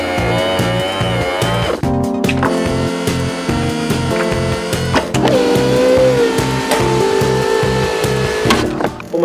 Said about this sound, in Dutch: Hier staat een testopstelling waarmee we de raammodule kunnen testen.